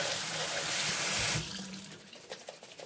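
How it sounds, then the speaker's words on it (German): Dandelion flowers are rinsed under a running kitchen tap, with a steady rushing stream for over a second that then drops to softer splashing and trickling as the flow is reduced or interrupted. "Die waschen wir jetzt erstmal tüchtig ab und dann raus in das Wasser."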